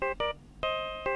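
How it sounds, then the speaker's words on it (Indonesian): The Six Samurai ringtone from Phoenix Wright: Ace Attorney – Justice for All plays as a bright electronic melody of a few sustained, tuned tones repeated in short bursts, clear and alone. "Dan tetap apa yang dipegang Wellington itu ringtone-nya malah ringtone Six Samurai"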